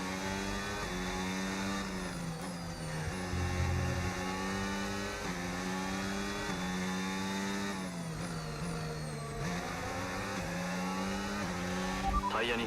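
An F1 car in the F1 25 racing game screams along, its engine whine climbing through gear shifts and dipping sharply under braking, loud and continuous throughout.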